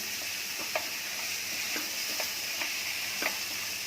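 Black-eyed bean curry with pieces of boiled potato being mixed in a pan over a low flame, a steady sizzle with a few spoon scrapes and taps spaced through it, close and moderately loud.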